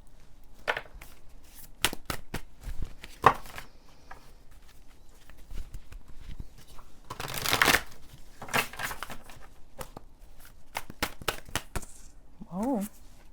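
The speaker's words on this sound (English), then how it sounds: "I'm just going to shuffle some more tarot cards." Tarot cards are shuffled in quick, crisp bursts of riffling and snapping, close and clear, with pauses between the handfuls. A voice speaks briefly near the end.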